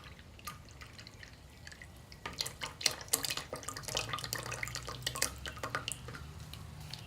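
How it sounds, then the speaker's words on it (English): Water poured off a container of settled clay slip, quiet irregular trickles and splashing drips close up, building into a steadier pour after a couple of seconds. "now what we'll do is we'll just pour off the this top layer of water"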